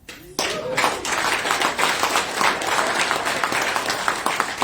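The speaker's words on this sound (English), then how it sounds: "Thank you for clapping" An audience bursts into clapping at a political speech in Uganda, starting abruptly and continuing as a loud, dense patter of hands with some crowd murmur, without anyone speaking over it.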